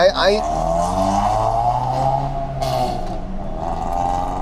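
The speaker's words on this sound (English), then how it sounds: "I swear it's the slowest cars with the loudest exhaust" A car's loud exhaust drones and revs steadily, close by, with a deep buzzing engine note throughout.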